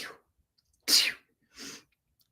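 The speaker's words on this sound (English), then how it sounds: "I might have to sneeze" One person sneezes close by, a sharp burst preceded by a brief breathy intake and followed by a softer exhale; the surroundings are otherwise quiet.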